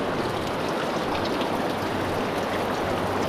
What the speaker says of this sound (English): so you can see the water dripping down